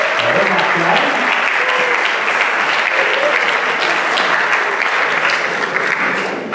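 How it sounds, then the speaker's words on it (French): Loud, dense audience applause fills a conference hall after a talk on inclusion in Olympic and Paralympic sports, holding steady and easing slightly at the very end. "on va les applaudir"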